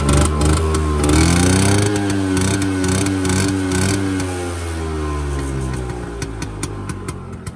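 A vintage Vespa Standard VBB1 scooter engine revs loudly nearby, its pitch rising and falling through several throttle blips before it settles toward a lower, steadier idle with faint popping.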